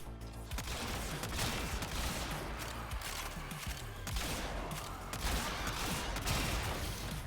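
Explosive weapon fire in the Warframe video game: a relentless, loud rattle of rapid shots and bursting impacts that pound on without pause for several seconds, with no talking over it.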